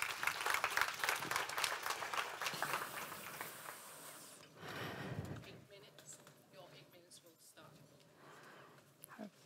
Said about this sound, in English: Please give her a big hand of applause.